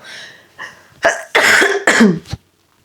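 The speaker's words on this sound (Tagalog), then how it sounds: "ayan, inuubo na nga ako." A person coughs several times in a short burst, harsh and close, preceded by a breathy throat sound.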